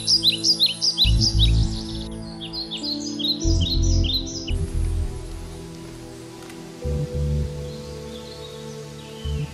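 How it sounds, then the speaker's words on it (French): Several birds sing in bright chirping bursts on a cool morning by a lake, recurring for a few seconds then fading, over a steady low rumble that swells in heavy waves. "je profite de la fraîcheur et du chant des oiseaux."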